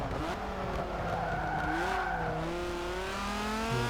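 A race car in a racing video game brakes hard from about 156 mph, its tires squealing in long rising and falling tones over the engine drone.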